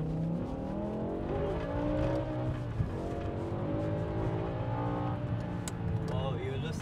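BMW M5 losing traction on a wet road: engine revving and wavering as the tires spin, pitch rising and falling under a steady car drone, with a short squeal near the end.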